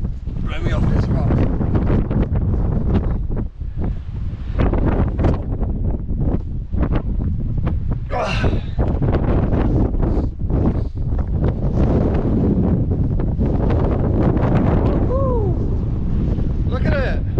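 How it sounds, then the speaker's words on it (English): Strong, gusting wind buffets the microphone on an exposed rock high on a Tasmanian mountain, a constant loud roar with sharper blasts, while a person talks over it. "And that wind is so sharp when it comes. I feel like it could blow me off this rock."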